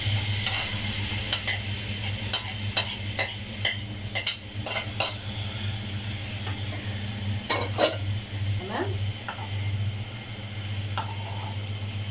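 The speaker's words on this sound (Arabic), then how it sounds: "هننزل باللحمه على الزيت" Meat frying in oil in a pot for a lentil and vegetable dish, with a steady sizzle and repeated metallic clicks and scrapes of a utensil against the pot, close and even.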